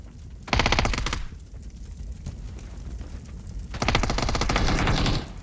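Automatic gunfire in the battle royale game PUBG rattles out in two loud, rapid bursts, each about a second long, separated by quieter scattered shots and background sound.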